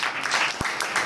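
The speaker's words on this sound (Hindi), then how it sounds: "तालियां जोरदार" Brief burst of applause from an audience at a school award ceremony, dense clapping over about a second with a sharp single clap standing out near the middle.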